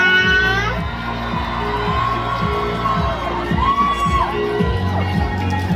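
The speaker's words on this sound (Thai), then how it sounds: "ขอเสียงปรบมือและกรี๊ดนะกับผู้บริหารของเราด้วยนะคะ" A fan event crowd cheers and screams for executives on stage, high excited shouts and whoops rising over steady rhythmic music, loud and close throughout.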